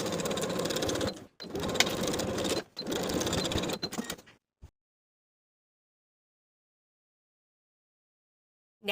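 A sewing machine runs in three quick stitching bursts with short pauses, sewing a half-inch seam allowance on a shirred open-back summer dress, then falls silent.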